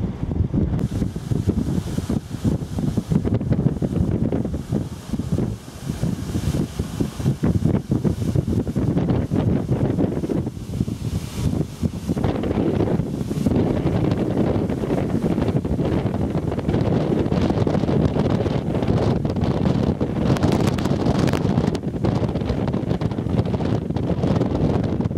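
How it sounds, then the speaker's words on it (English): Strong gusting wind after a storm in the Swaledale hills, roaring and buffeting the microphone in a dense, loud, unbroken rush with surges and dips throughout. "it's still very, very windy"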